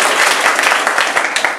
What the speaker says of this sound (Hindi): इनके लिए ताली करो